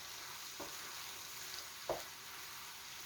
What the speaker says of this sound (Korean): 그 다음에 볶아주세요.